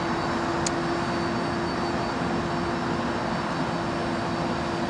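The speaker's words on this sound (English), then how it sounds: "great to see their 380s flying around" An Airbus A380 jet airliner at London Heathrow Airport produces a steady, even engine roar with a sustained hum, continuous and moderately loud throughout without talk.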